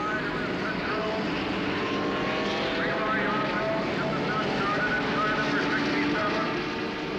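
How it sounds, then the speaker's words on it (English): Turbocharged Ford and Offenhauser race car engines at the 1969 Indianapolis 500 drone together in a dense, steady roar under a crowd-filled track atmosphere, holding constant with no break. "Wild sound of these turbocharged Fords and Offenhauser engines for the most part"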